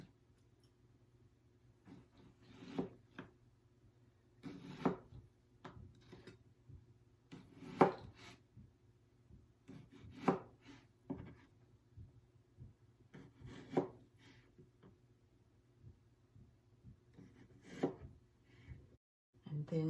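A knife slices through a fresh pear on a cutting board for a feta, kale and pear salad, a series of soft, close, crisp cuts repeating every couple of seconds over a quiet room hum.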